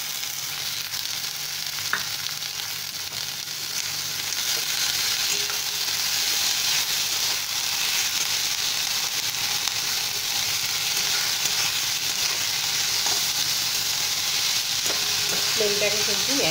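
Data greens dropped into a pan of softened onions, frying with a dense, even sizzle that holds steady and close for the whole stretch, with faint stirring clicks and no talk.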